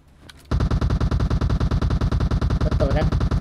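Rapid automatic gunfire from a bot shooting in a video game, a loud, close, evenly spaced burst of about thirty shots that starts abruptly after a brief quiet moment, with a voice briefly talking over it near the end.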